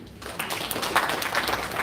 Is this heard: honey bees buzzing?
no